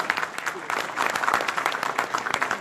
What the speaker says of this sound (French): Oui, on peut l'applaudir pour leur bravo.